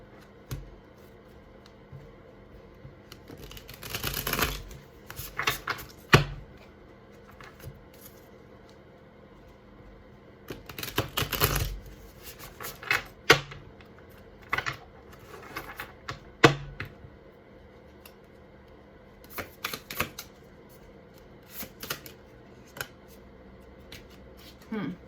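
Muse Tarot cards are shuffled in quick, crisp bursts of riffling and slapping, separated by quieter pauses, with soft speech faintly underneath.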